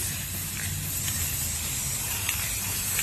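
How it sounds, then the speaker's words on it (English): Steady broadband hiss of an aerosol spray paint can held down continuously for about three seconds, painting a mirror frame's edges, close by, with faint clicks and no voices. "So we're just going to spray paint the edges."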